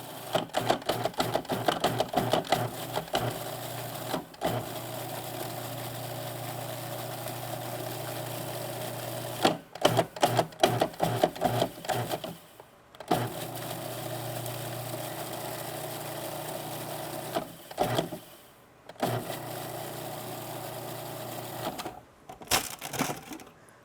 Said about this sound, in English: I'm going to spin that in the processor until the herbs are chopped into the sugar